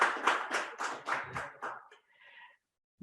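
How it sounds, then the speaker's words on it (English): Short burst of clapping from a small audience at an education summit, a few seconds of close, scattered hand claps that trail off and stop abruptly. "I think they deserve a round of applause wherever they are."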